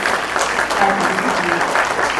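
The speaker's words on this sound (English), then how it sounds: "Give her a round of applause, please." Brief audience applause at a medical institute's leadership awards meeting, steady dense clapping from a crowd with some voices mixed in.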